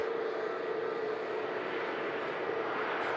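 Steady engine roar of a Jet2 airliner at Manchester Airport, a sustained broadband drone with a faint tonal hum, moderately loud and unbroken for a few seconds.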